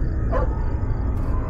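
A dog in the horror video game Fears to Fathom: Carson House gives a single short bark, fairly faint, over a steady low rumbling background.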